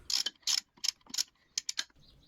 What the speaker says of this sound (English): we can go ahead and loosen the bolts that connect the lower unit to the midsection.